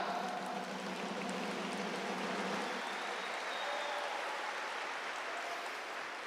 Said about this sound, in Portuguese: As palmas, embora eu não esteja pedindo para bater palma